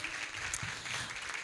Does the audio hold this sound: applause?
yes